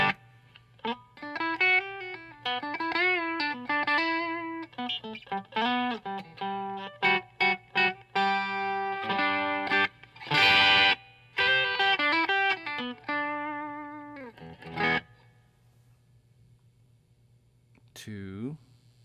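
Electric guitar through a Wampler Cranked AC pedal set to low gain plays a run of clean-edged single notes and chords, with a few longer ringing chords and a short strum near the end, against a steady low hum.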